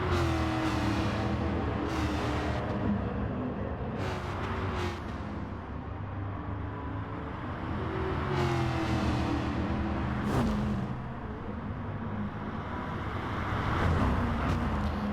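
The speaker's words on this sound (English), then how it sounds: "he is revving out the engine quite much, as Stuart's in the background" Race car engine in a racing video game revving hard, steady loud drone with repeated rising rev sweeps and gear changes throughout, no talk.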